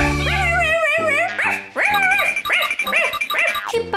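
A puppy in a children's cartoon barks and yips in short, high, bright bursts, several in quick succession, loud and close, following a sustained musical tone at the start.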